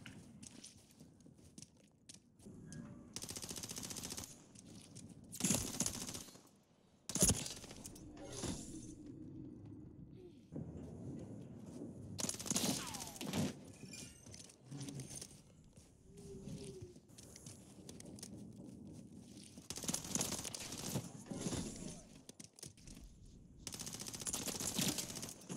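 Video game gunfire arrives in several loud bursts of rapid shots separated by quieter gaps, with a voice talking faintly in between.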